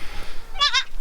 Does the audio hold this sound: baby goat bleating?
yes